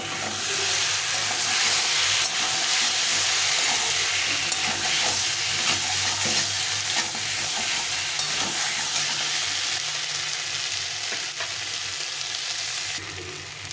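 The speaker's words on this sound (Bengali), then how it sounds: "এই টমেটোটা দিয়ে আবার একটু কষিয়ে নেব" Cauliflower and tomato sautéing in a pan, a steady, loud sizzle and crackle of hot oil with occasional stirring scrapes that continue without a break throughout.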